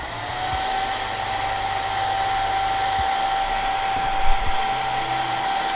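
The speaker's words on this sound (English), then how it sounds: "Grab that hair dryer." Hair dryer blowing steadily at close range with a constant whine, used to dry water-based acrylic paint on a plastic scale model, with faint handling bumps underneath.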